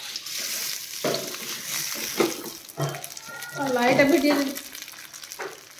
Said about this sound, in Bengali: ঘি দিয়ে চালটাকে হালকা হালকা করে ভেজে নেব।